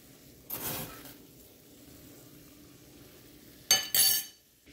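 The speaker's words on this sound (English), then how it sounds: "Make sure you keep stirring and it doesn't stick to the pan." A spoon stirring gajar halwa in a pan gives two short bursts of scraping and clinking against the metal, separated by a quiet stretch with a faint sizzle behind.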